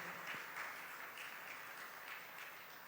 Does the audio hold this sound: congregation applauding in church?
yes